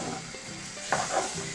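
Bananas cooking down in a sugary mix for rum and banana jam, with a soft steady sizzle and a couple of brief stirring scrapes close by, with no talking.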